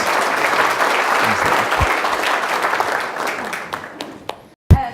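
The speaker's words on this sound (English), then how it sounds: "You guys give them a round of applause." An audience at a company lunch-and-learn event breaks into loud, dense applause that holds for several seconds, then thins to scattered claps and cuts off abruptly near the end.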